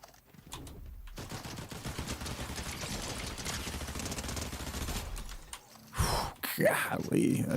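SMG fire in a video game: a dense, sustained rapid burst of automatic shots lasting several seconds, followed by a short pause and a few louder mechanical sounds.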